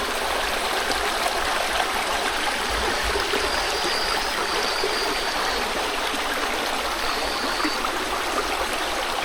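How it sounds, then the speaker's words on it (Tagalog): A river flows steadily outdoors, a dense, continuous rushing of water that stays loud and even throughout with no voices over it. "Ilog na agos-agos mga paro."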